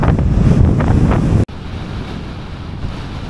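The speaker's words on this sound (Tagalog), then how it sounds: "ang lakas ng hangin" Strong wind buffets the microphone on a motorcycle ride near Burgos, Philippines, a loud, rumbling roar that briefly cuts out, then continues as a steady, lower gusting blast.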